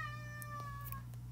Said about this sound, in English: I do not know what's wrong with my cat.